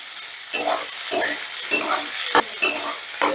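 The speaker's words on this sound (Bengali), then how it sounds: "আদা রসুনটাকে একটু মিশিয়ে নিয়ে" Chopped ginger and garlic frying in a pan, loud crackling sizzle broken by a series of distinct scraping stirs at a steady, unhurried pace, close and clear with no talk.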